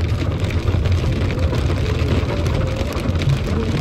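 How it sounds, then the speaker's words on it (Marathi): Heavy rain pours down during a sunshower on a family trip, a steady dense roar of drops that continues without break for the whole stretch, with a low rumble underneath. "जोरात पाऊस पडतोय."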